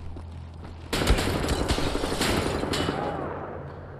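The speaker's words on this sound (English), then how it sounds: "I don't know where those shots are coming from." Gunfire in Wolfenstein: The New Order on the Gibraltar Bridge breaks out suddenly as a dense, sustained barrage, then fades slightly toward the end.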